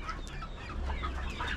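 A flock of chickens with many roosters, clucking and calling close by in overlapping bursts over a steady farmyard background, with no talk.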